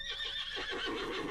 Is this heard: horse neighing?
yes